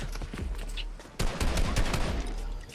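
Rapid bursts of gunfire from computer-controlled bots in a shooting video game, dense overlapping shots that grow louder and more intense midway, with no talking.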